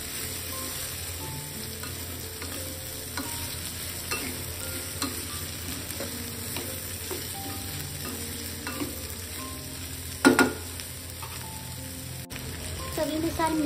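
Okra is mixed in a frying pan with a continuous crackling sizzle, broken by repeated scraping stirs and a sharper clatter near the end.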